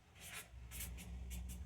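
A Sharpie marker writes on a card in a card-trick tutorial, giving a few short scratchy strokes in quick bursts, close and fairly quiet with no voice over them.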